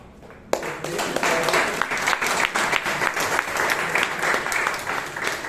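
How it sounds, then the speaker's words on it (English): After a brief quiet moment, a roomful of Toastmasters meeting attendees breaks into steady applause, many hands clapping together at close range and holding an even level to the end. "a big round of applause to the table topic master"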